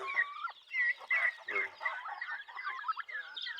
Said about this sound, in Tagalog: Ito naman yung ating pabo, lalaki na Yan